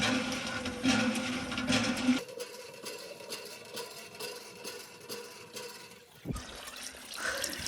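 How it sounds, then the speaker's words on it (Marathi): Water from a hand pump runs steadily into a kalashi pot at close range, with a shifting gush and a brief clatter partway through. "आपल्याला हापशावरून कळशी भरून आणायची"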